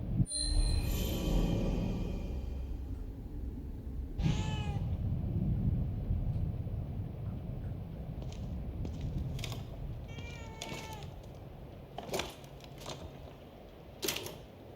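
A cat meows a few times, soft and distant, inside The Evil Within 2 horror video game, over a murky ambient background with occasional clicking sounds.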